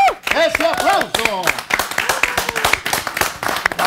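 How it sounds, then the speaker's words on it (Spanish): Audience applause at a Christmas TV show: dense clapping that builds quickly and carries on steadily, with a voice speaking over the start. "¡Ese aplauso!"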